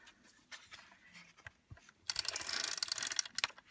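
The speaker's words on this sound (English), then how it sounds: "I am going to put some tape runner down to hold this in place to my background" Tape runner rolled across layered paper artwork to fix it to a background, quiet handling rustles and then a loud, close dry scratchy rasp in the second half with small clicks.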